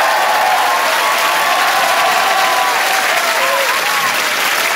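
A television studio audience at a comedy show cheers and applauds loudly in a dense, sustained roar of clapping with a few whoops rising above it.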